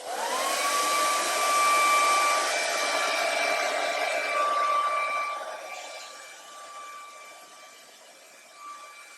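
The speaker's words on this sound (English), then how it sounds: "We've removed the front of the hairdryer now because we need a stronger wind load" A hair dryer blows with a steady high whine, loud at first and gradually fading quieter toward the end.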